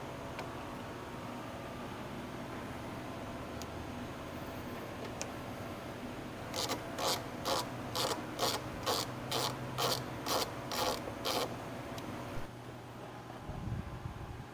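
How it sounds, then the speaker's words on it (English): A screwdriver works the headlight cover screws on a 1994 Acura NSX, producing a quiet series of about ten rapid, evenly spaced ratcheting clicks over a low background hum, with no speech. "All you gotta do is pop off these two caps on the side and remove 4 screws, and it comes right out."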